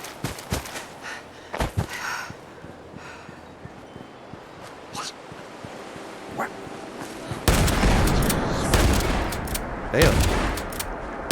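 Gunfire in Fallout 76 starts as scattered sharp single shots, then erupts into a loud, sustained volley of rapid fire. A voice speaks briefly.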